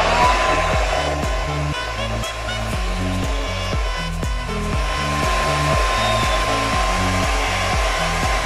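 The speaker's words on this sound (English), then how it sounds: "the diffuser when you turn it on, and make sure your fingers already set to cool switch if you want to use the cooling effects of this blower." An Infinix foldable hair dryer with a diffuser runs steadily and loudly close by, its airflow blending with a rhythmic low-pitched electronic pulsing in the background.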